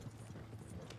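Horse hooves clip-clop faintly and steadily behind the player in Red Dead Redemption, a soft, quick, uneven patter of footfalls under low ambient game noise.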